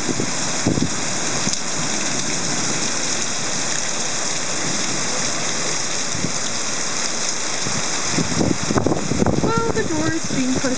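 Heavy thunderstorm rain pours in a dense, constant roar close by, with water drumming on surfaces throughout and a few louder splashing bursts near the end.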